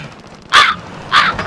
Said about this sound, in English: That's the sound of crows around the dead bodies I killed.